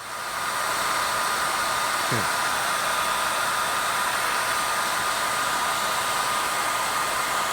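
A hair dryer blows steadily on one setting throughout, a constant broadband whoosh with a brief faint tonal blip partway through.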